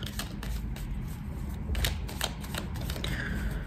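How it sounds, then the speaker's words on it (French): Cards being turned over and laid down for a reading, a run of quick light flicks and soft taps close by, with no talking. "on va recouvrir certaines cartes"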